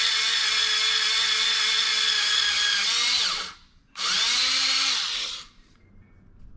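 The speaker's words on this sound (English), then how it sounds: "We're just gonna put a hole in it and then drill a wood screw into that" A power drill whines loudly for about three seconds, boring a small hole, stops briefly, then whirs again for a shorter burst before cutting off.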